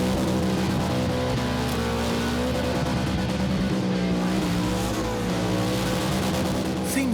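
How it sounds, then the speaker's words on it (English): A supercharged green Holden Commodore ute does a burnout, its engine roaring loud and constant at high revs with a steady whining drone close by. "The full-on Commodore takes over tyre destruction duties from Percy, an earlier HZ."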